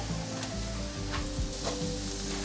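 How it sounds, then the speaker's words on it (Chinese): Ginger and shiitake mushrooms stir-fry in hot oil in a pan, a continuous close sizzle with soft scraping pulses as the pieces are tossed, without speech. "快速翻炒，炒到現在可以看到薑的顏色變得更深，變金黃色了。"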